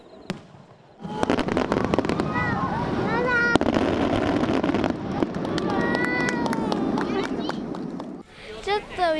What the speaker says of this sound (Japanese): 下の部分がぐるりと回るように打ち上げられていて、上空からのドローン映像で楽しめる最新演出の花火です。